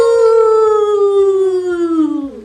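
A single long, sustained howl imitating a werewolf, gliding slowly downward in pitch over about two seconds before breaking off, loud and close. A person voices it together with a dog that howls along.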